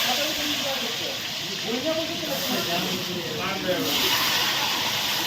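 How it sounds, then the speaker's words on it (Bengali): Potatoes frying in hot oil for a large batch of Bengali tangra fish chorchori, a steady broadband hiss and sizzle running throughout while a voice talks over it. "এবার আলুগুলো ভেজে নেব"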